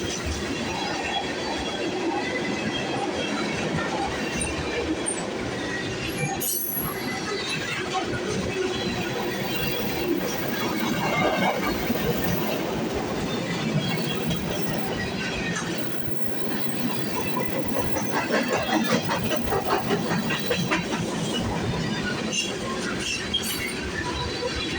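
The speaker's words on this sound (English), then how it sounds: "This train's gonna have a DPU on it." A freight train led by an SD70M2 locomotive rolls past on the CN Halton Subdivision, wheels clattering and squealing continuously and loudly nearby, with voices talking over the steady rumble.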